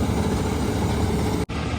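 A Swaraj 855 tractor engine runs loud and close with a steady diesel drone, broken by a brief dropout near the end, with no voices.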